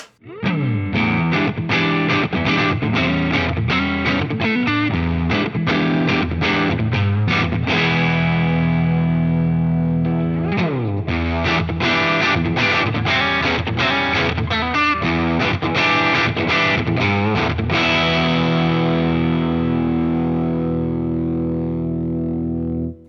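Electric guitar through a Line 6 POD GO boost with drive set to zero, bright driven chords and riffs ringing loudly and continuously, with brief pauses between phrases.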